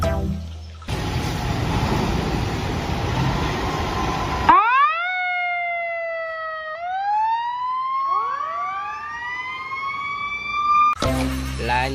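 Toy fire truck siren rising and wailing in sweeping electronic tones after a burst of harsh noise, loud and alone, ending with another noisy burst.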